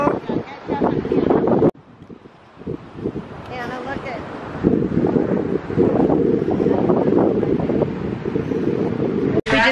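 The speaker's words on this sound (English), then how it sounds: "it's windy and cold" Wind buffets the microphone on a cold beach at sunrise or sunset, a steady loud rumbling gust that fills most of the clip and drops out briefly near the start, with surf noise mixed in.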